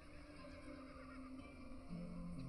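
A horse whinnies in a drawn-out, moderately quiet call, with a steady background hum and no talking over it.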